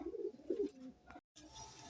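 Pigeons coo softly nearby in a short murmuring burst, followed by a brief pause and faint rustling.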